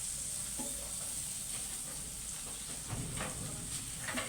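Garlic sizzles steadily as it is sautéed in a hot pan for a chicken fillet sauce, a continuous close hiss of frying with a few faint clinks of stirring, with no talking.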